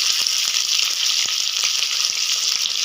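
Onions sizzle and fry in a kadhai for chilli chicken, a steady loud hissing crackle with small pops and occasional stirring taps, close and continuous.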